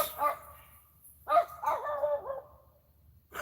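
A dog barks at cats in a garden at night: a short bark, then a burst of several sharp, excited barks and yips, fairly close, with quiet gaps between.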